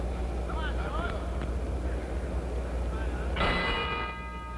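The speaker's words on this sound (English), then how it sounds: "Bell ends round 2" A boxing ring bell rings out once, bright and sustained, to end round 2 of the George Benton vs Allen Thomas fight, cutting through a steady, dense arena crowd murmur.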